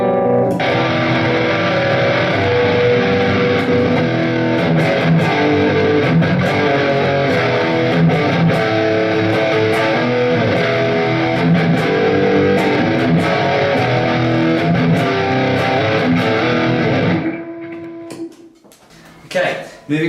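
Electric guitar played through the overdrive channel of an HT Venue Mark II amplifier with reverb, a dense, sustained distorted tone ringing steadily and loud for most of the passage before cutting off near the end.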